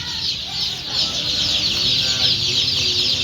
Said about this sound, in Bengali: দেখেন আমাদের এখানে অরিজিনাল এ গ্রেড দেশি মুরগির বাচ্চা